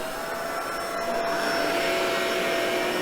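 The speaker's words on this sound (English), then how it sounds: "this vacuum is lighter. It's very easy to push back and forth." Shark ZU561 upright vacuum cleaner running steadily, a loud continuous motor whine and airy rush with a constant high tone, close and alone without talk.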